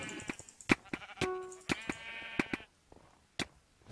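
Sheep bleat repeatedly in the Minecraft Sheep Quest mini-game, several short nasal bleats with clicks and game sounds mixed between them.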